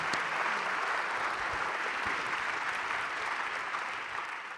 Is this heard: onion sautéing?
no